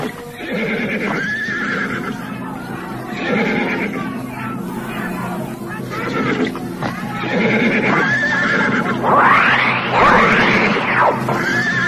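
A horse neighs and whinnies repeatedly in a dramatized palace scene where it rampages among soldiers, with loud, shrill calls over a steady dense background and faint hoof clatter, rising to a strong whinny near the end.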